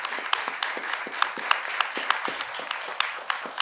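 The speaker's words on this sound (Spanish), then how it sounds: "para que ustedes me apoyen en dar un aplauso" Audience at a Spanish-language literature talk for young readers applauds together, a steady patter of many hands clapping at moderate distance with a few sharper claps standing out.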